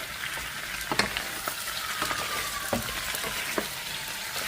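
Chicken necks sautéing in a pan for Filipino macaroni sopas give off a steady, close frying sizzle, punctuated by a few sharp clicks and clatters of stirring.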